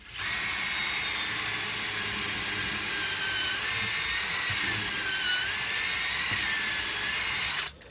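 A drill fitted with a 6mm bit whines steadily and loudly at close range while boring holes during a bathroom renovation, its pitch wavering slightly as it cuts, with no talk.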